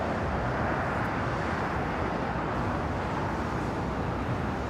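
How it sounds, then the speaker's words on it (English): An American Airlines A321 takes off from the south side of Los Angeles airport: a broad, steady roar of jet noise, distant and even throughout, with no talking. "American A321 taking off here on the south side, heading to Dallas, Fort Worth, Texas"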